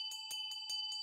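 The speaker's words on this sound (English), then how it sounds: "rang his 7-metal bell to the 4 winds" A small seven-metal hand bell rings in bright, steady strokes, about five evenly spaced clear metallic strikes over a sustained ringing tone, close and alone with no voices.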